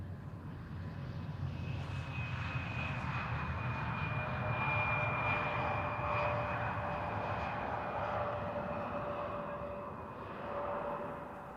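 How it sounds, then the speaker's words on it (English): Atlas Cargo Boeing 747 at Amsterdam Schiphol airport, a steady, loud jet engine roar with a high whine, held throughout and swelling slightly midway, with no talk. "And then we'll also have our Atlas Cargo 747 coming"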